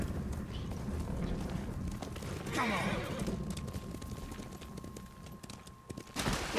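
A horse gallops in the samurai video game Ghost of Tsushima, its rhythmic hoofbeats running under game ambience while a player speaks briefly.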